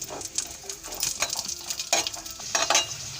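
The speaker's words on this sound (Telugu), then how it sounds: "ఇప్పుడు నెయ్యి వేడెక్కింది కదండి, జీడిపప్పు వేసి వేయించుకుందాం." Cashews frying and being stirred in hot homemade ghee for semiya kesari, with a soft continuous sizzle broken by light scraping and stirring clinks, close and steady with no talking.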